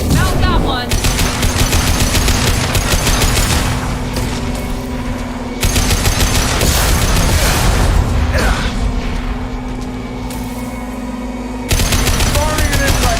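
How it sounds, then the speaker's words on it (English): Heavy automatic weapon fire from an impact gun in Mass Effect 2, loud and continuous rapid bursts with brief gaps, dense booming shots layered over game background noise. "Firing an impact gun."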